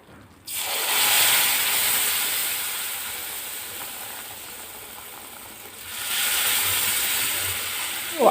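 Milk being poured into hot roasted semolina over a lowered gas flame for a festive sweet, giving a broad steady sizzle and hiss that swells at the start, eases, then rises again near the end, close and without talk.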